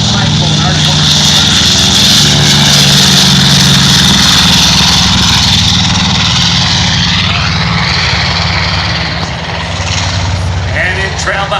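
A B-25 bomber on its takeoff roll at an airshow, twin 1,700-horsepower engines roaring loud and steady throughout, with a commentator talking over the engine drone.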